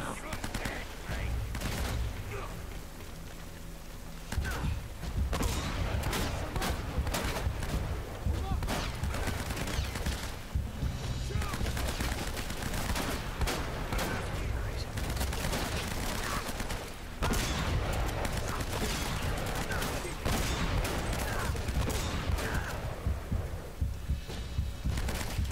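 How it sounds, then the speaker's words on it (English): Gunfire rattles through a firefight in the PlayStation 4 action game Uncharted: Drake's Fortune, with dense bursts of shots and impacts repeating throughout amid game music and effects. "he just shot me in the fucking face"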